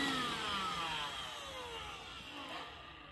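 Hoover Fusion cordless stick vacuum running steadily close by, a continuous motor whine with sweeping tonal shifts that eases slightly in loudness toward the end, with no talking.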